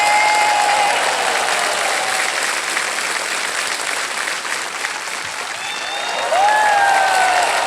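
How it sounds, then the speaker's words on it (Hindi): Studio audience applause on the quiz show Kaun Banega Crorepati, dense and steady clapping that fills the whole stretch with a brief dip and then swells louder near the end, while bright musical tones glide over it. "ताली बज जाएगी।"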